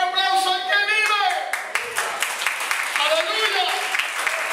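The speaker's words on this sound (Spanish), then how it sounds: "¡Oh, un aplauso al que vive!" A church congregation claps enthusiastically while voices shout and sing over the clapping, with the talk and cries prominent throughout.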